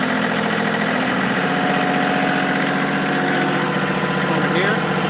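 A Kioti CK2610 HST compact tractor with backhoe runs its engine up to higher RPM, a loud, steady mechanical drone with fine rhythmic vibration, close by, with a voice speaking over it.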